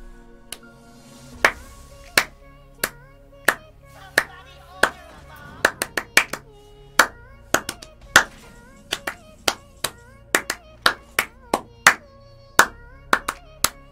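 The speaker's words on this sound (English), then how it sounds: "Okay, we're done with the clapping." Hands clap in sharp, loud, irregular bursts close to the microphone, single claps and quick pairs over a quiet background with a brief faint voice.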